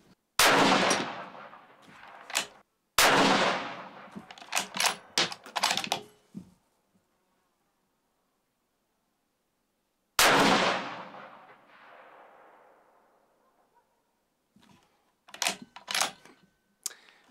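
Rifle shots from a Bergara B14 Crest at a range: several loud, sharp cracks with ringing decay, the first pair close together, then a lone shot after a long silence, followed by light mechanical clicks and handling noises.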